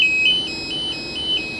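An alarm panel on a Med Vac medical vacuum system gives off a steady run of high, evenly spaced electronic beeps over a constant hum, moderately loud and close.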